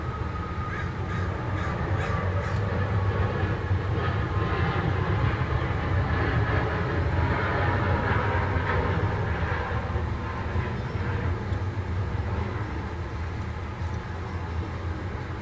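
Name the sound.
airplanes taking off outside the window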